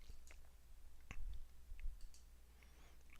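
Computer mouse clicks, a few sparse and separate ones spread over a few seconds, faint and close against a low background hum, with no talking.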